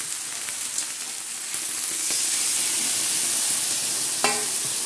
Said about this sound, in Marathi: तर आता तवा गरम असल्यामुळे तडतड आवाज येत आहे